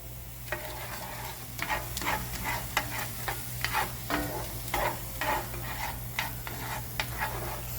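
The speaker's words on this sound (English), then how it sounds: "I'm going to let that simmer a little bit, stir it up a tad" Garlic and Italian sausage simmer in a pan while a utensil stirs and scrapes in irregular clicks over a soft bubbling sizzle and a low steady hum.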